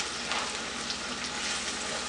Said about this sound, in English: These onions are frying well.